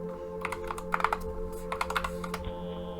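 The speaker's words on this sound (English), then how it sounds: "Let's type in freedom." Computer keys clack in short clustered bursts as a code is entered in the horror game Fingerbones, light and close over a steady low ambient drone, ending in a thin sustained tone.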